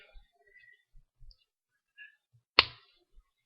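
A single sharp, close snap of Lindstrom cutters severing thick jewellery wire for jump rings, with a short ringing tail, breaks an otherwise quiet stretch dotted with faint soft clicks and handling taps.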